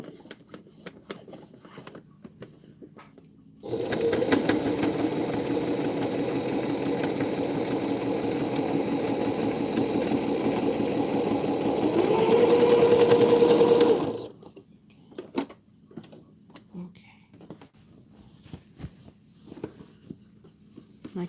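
A domestic sewing machine stitches binding onto a quilt, running in one steady motorized whir for about ten seconds, speeding up slightly before it stops, with quiet pauses before and after.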